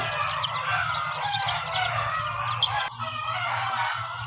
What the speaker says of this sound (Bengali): এই পাটের ভিতরে শুধু মুরগির বাচ্চা রেখেছি।